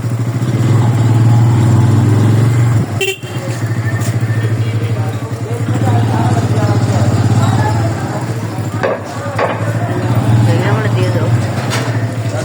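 Bajaj Pulsar N160 motorcycle being ridden at night, a steady mid-pitched engine drone running throughout with a brief dip partway, while a person talks over it.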